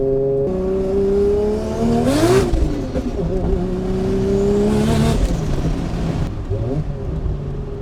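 A Toyota Supra with a struggling clutch accelerates hard, its engine droning loud and steady with two rising revs as the gears climb, heard from inside the car.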